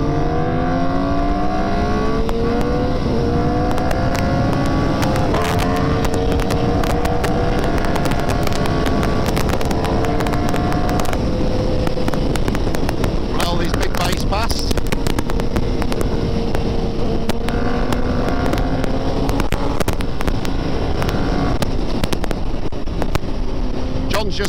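A Yamaha MT-09 motorcycle rides on the Isle of Man TT course in 2025, its engine note rising and climbing steadily through the gears over constant wind rush.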